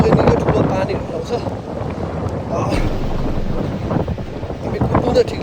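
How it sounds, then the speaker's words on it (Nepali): Gusty wind ahead of rain rushes across a Tennessee hiking trail, roaring loudly and steadily against the microphone with brief swells and dips throughout. "हावा यस्तो मडारिएर आएको छ"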